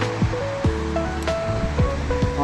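The Modi Khola river on the Annapurna Base Camp trail rushes in a continuous, loud wash of flowing water with no talk.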